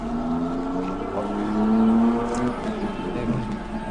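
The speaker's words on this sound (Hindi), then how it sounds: "इवन रात के इस टाइम भी गाड़ियां जा रही हैं," Cars passing on a road near a graveyard in Latifabad, Hyderabad, before dawn. A steady, moderately distant engine and tyre hum rises and falls as vehicles go by, with no talking.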